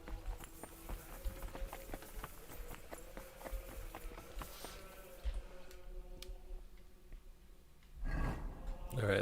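Horse hooves clip-clop at a steady walking rhythm in Kingdom Come Deliverance 2, fairly close, fading after several seconds before a louder burst of noise near the end; a voice talks briefly.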